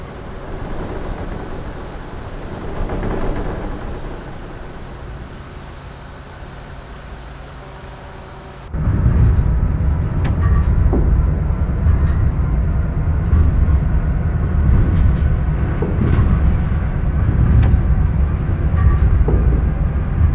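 An Acela Express high-speed train in the OpenRails simulator drones with a muted interior hum that suddenly jumps to a louder, fuller rumble of running noise and track sounds, continuing steadily.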